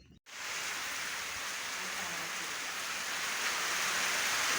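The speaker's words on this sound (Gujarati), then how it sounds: "મિત્રો વરસાદ આવ્યો છે" Steady, dense hiss of rain falling, loud and continuous throughout, with no voices.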